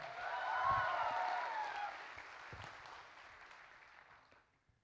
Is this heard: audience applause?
yes